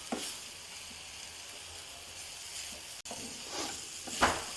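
Raw plantain slices coated in spicy masala, frying in a pan; a steady soft sizzle runs throughout, with occasional scraping stirs growing louder near the end, close and without talk.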